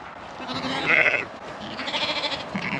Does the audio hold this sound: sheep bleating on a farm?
yes